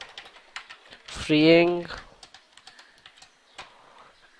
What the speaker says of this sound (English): I'm going to just type a single line